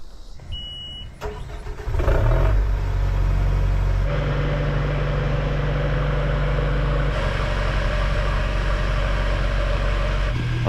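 A vehicle rolls steadily through a house-building site where a roof is being installed, its engine a continuous close drone from about two seconds on after a brief quieter start, with no talking.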